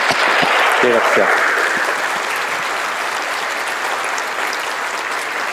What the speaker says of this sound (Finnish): annetaan aika raikuvat aplodit